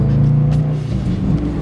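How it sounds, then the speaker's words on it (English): A car engine idling rough, a close, continuous low throbbing hum with uneven pulsing, heard alone for a moment. "it sounds like it's idling real rough"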